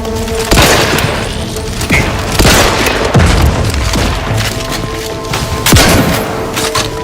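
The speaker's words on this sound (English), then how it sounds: "Relinquishing grenade." Repeated explosion booms in Outer Worlds 2 combat, several loud heavy blasts with rumbling tails spaced a second or two apart over constant gunfire and battle noise.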